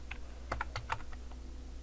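Spaced keystrokes on a computer keyboard during spreadsheet work: about eight crisp, close clicks in an uneven rhythm over a faint room hum.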